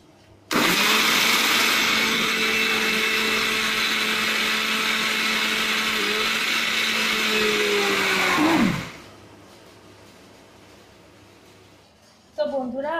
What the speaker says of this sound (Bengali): আমার মিক্সিতে ব্লেন্ড করা হয়ে গেছে, দেখতে পাচ্ছেন স্মুথ একটা ব্যাটার হয়েছে